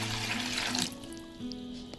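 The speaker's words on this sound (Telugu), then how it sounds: "ఒక 2-3 టైమ్స్ కడిగేసి నీట్గా నీళ్ళు పోసి నానబెట్టేసేసేయాలి" Water runs and splashes steadily as soaked sago is rinsed in a bowl under a tap, then the flow softens and continues.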